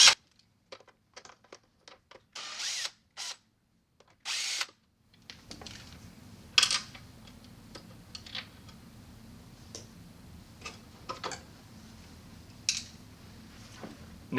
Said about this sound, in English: Now you're ready to disassemble the valve, starting by removing these 2 screws.